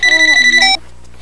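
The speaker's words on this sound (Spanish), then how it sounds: "¡Ay, el teléfono de fiesta de hadas!" A toy fairy party phone in a children's show rings loudly with a rapid electronic trill lasting under a second, then stops, leaving a faint background hum.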